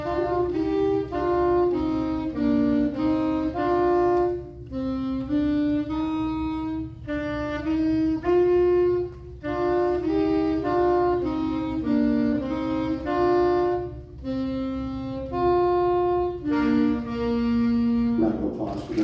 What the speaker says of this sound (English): Also on saxophone, we have Sydney and Lillian, who are coming up to play a little bit something that we heard a little bit early this year, which is London Bridge is Falling Down.